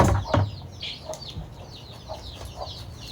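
Chickens cluck and cackle close by in a rural farmyard, a string of short scattered calls over a low background murmur.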